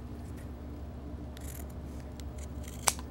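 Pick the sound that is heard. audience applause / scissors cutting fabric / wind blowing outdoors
scissors cutting fabric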